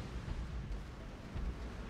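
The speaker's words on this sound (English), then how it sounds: "I hear explosions" Deep, continuous rumbling booms of space-combat explosions in the video game X3: Terran Conflict, with a dense low-end roar throughout and no voices.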